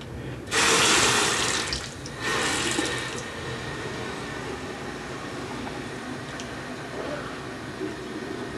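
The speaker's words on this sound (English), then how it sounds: "Can you turn the water on?" Water gushes from a bathroom tap into a sink, a loud rushing burst that briefly cuts off and restarts, then settles into a steadier, softer flow.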